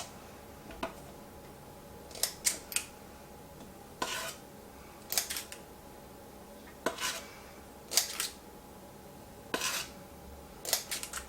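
Chocolate cupcake batter scooped with a cookie scoop into a lined muffin tin: sharp metallic clinks and taps in small clusters every second or two, close and fairly quiet against a faint kitchen hum.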